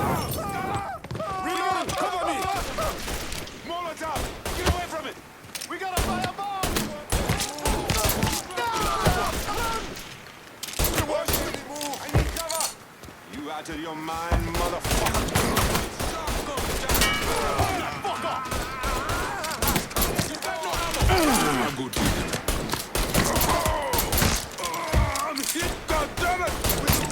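Gunfire in the video game Mafia 3 crackles in dense volleys and sharp repeated shots throughout, loud and close, with excited talking layered over the shooting.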